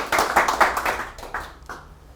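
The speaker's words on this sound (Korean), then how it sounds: "박수 한번 주세요" A small audience at a lecture on Ripple cryptocurrency gives a brief, sparse burst of clapping, several close distinct claps in the first second that thin out into a few scattered, fading claps.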